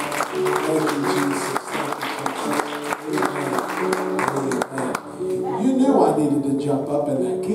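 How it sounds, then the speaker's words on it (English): Congregation clapping in praise at a Sunday morning church service, a steady dense patter mixed with singing and music and voices calling out throughout. "Let's give the Lord a hand clap of praise."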